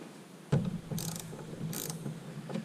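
Ratchet tightening nuts on a Toyota Camry L engine, a few short bursts of clicking in two main runs, fairly quiet over a steady low background hum, no talking.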